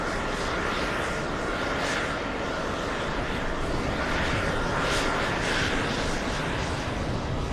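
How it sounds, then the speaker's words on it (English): A Boeing 747 airliner on a runway at Los Angeles produces a constant, loud broadband jet roar that holds steady throughout without letup. "the 747 was able to exit the runway just in the nick of time"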